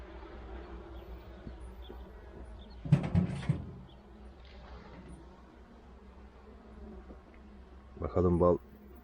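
Honeybees hum steadily around an opened hive during a queen check, a soft continuous drone broken by two louder bursts of close buzzing and handling noise.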